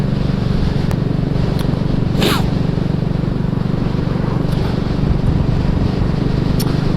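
A BSA Gold Star motorcycle on a winter road ride in Nantwich, its exhaust a low steady thumping buried under constant loud wind rush at the microphone, with a few brief clicks and no talk.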